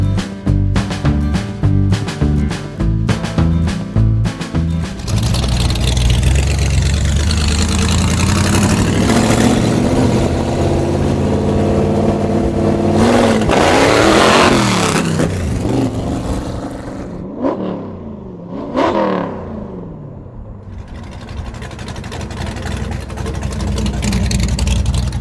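A loud 1956 Chevy gasser engine, close and dominant, starts with choppy lumpy idle pulses, then rises into long sustained revs that swell and fall, with sharp blips near the end before settling back.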